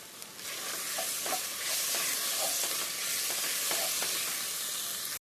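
Green chillies sizzle steadily in a hot pan with ginger-garlic paste, a loud, even frying hiss with faint stirring clicks scattered throughout, then cutting out abruptly at the end.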